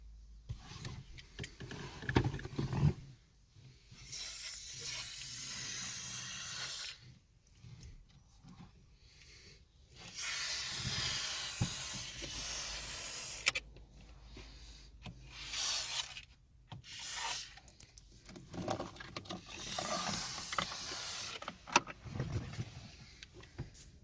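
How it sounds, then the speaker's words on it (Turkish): Several separate bursts of hissing silicone spray, applied to a Renault Symbol's seat belt and trim, each lasting a few seconds, separated by quieter pauses with faint rubbing and handling noises. "silikon spreyle deneyelim işe yarayacak mı?"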